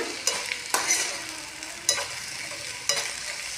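Mango pachadi with spices and chilli flakes stirred over a low flame, with a soft continuous sizzle and distinct spoon scrapes and knocks against the pan at irregular intervals.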